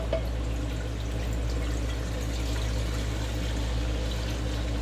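Five cups of white vinegar and two cups of apple cider vinegar pour steadily into a pot in a kitchen for bread and butter pickle brine, a continuous soft liquid stream with no talking.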